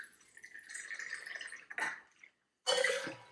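Citrus juice pours into a cocktail measure as a thin, close trickle rising slightly in pitch, then a brief splash, a short silence, and a second louder pour.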